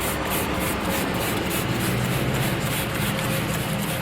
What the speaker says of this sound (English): Now we're going to take your engine degreaser of choice